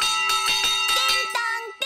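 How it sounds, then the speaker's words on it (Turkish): A large bell on a fire engine in a Peppa Pig cartoon rings in several quick, bright, sustained strikes with a lingering metallic tone, loud and close, ending abruptly. "Su sıkmak için hortum ve çalmak için büyük bir zil var."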